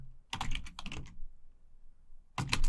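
Bursts of typing on a computer keyboard while entering terminal commands, close and fairly quiet, two quick clusters of keystrokes, a pause, then another burst.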